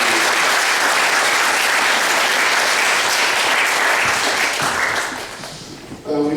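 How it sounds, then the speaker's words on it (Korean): Church congregation applauding in a dense, loud burst for about five seconds before it fades, with a voice briefly heard at the end. "우리 도와주신 분들, 협조해 주신 분들, 참여해 주신 분들 박수로 한번 감사합니다."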